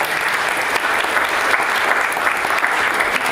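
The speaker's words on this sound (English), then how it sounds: "A round of applause to all the organisers." Steady applause from an audience at a public talk on architecture and planning, a dense wash of clapping that holds for a few seconds without pause.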